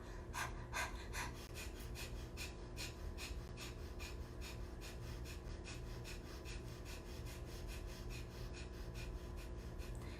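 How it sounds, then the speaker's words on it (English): Rapid, rhythmic breath-of-fire yogic breathing pumped through the nose, a steady train of short sharp exhalations that runs close and fairly loud for the whole stretch with no talking. "that's breath of fire. But now transition it to your nose"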